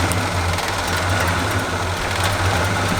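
A 1984 Chevy K20 truck engine runs steadily and loudly nearby, a constant mechanical drone with no clear rise or fall in revs.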